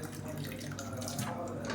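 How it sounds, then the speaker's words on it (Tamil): Water is poured into a pot of thick horse gram and green gram porridge as it cooks. The pour is a steady, close splashing stream, fairly quiet and continuous throughout. "இதில் தேவையான அளவு தண்ணி சேர்த்துக்கலாம்"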